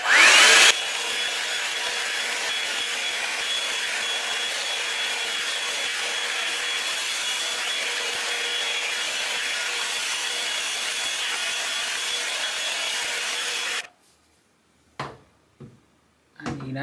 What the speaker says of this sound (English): I'm using my Hot Tools brush blow dryer, Revlon dupe, and I'm gonna do it on high.